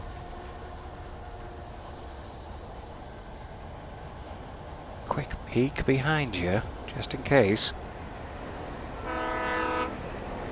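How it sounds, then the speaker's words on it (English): Train rumbling past in the video game Alan Wake Remastered, a steady low roar running under the whole scene while someone speaks briefly midway, with a horn-like tonal blast near the end. "There's the train again, seemingly going the other way now."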